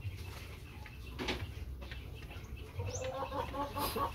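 A Brahma chicken clucks softly a few times, faint short calls over quiet farmyard background, with other distant chirps.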